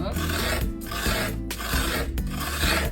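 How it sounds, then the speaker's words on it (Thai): Frozen mulberry yogurt ice cream mixture being scraped out of its container, giving a loud rasping scrape in three long strokes with brief pauses between them and no voices. "เมื่อเราขูดส่วนผสม ใส่ไปในโถเสร็จเรียบร้อยแล้วนะคะ"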